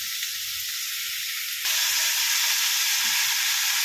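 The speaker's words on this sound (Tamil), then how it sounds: "வானலில் எண்ணெய் ஊற்றி காஞ்சி வைக்கிறோம். கருவேப்பிலை போட்டு பச்சை மிளகாய் தூள் போட்டு வதக்கிட்டு" Oil sizzling hard in a pan as curry leaves and green chili go in, a steady loud hiss that jumps louder partway through and then holds, with no talking.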